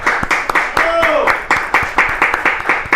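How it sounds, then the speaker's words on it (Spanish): A studio audience bursts into strong, steady applause welcoming a guest to a Spanish-language talk show, the rhythmic claps loud and close throughout with a brief voice rising over them. "nuestro caro amigo a quien recibimos con un fuerte aplauso"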